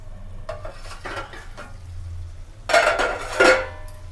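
A lid lifts off a pot of dhaba-style chicken curry. Light scrapes and taps come first, then a loud metallic clatter of the lid near the end, heard up close with no talking.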